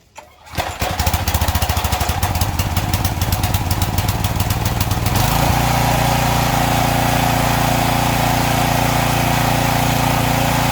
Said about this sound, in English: right now nothing is coming out of the wand when I turn on the pressure washer